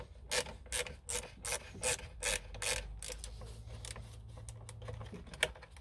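A ratchet or wrench loosens the 8 mm negative battery terminal nut on a 1.4 HDi Citroën C3, a quick series of crisp, close clicking strokes followed by quieter scraping and a small final click.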